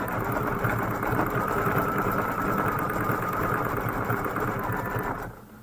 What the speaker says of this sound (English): we're going to stitch the inside fill of the porch lights